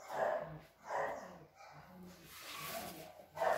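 Pet dogs give several short barks and yips close by, in an uneven burst, and a faint whimper follows between them.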